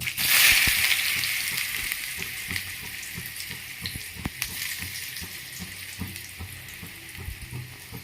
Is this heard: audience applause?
no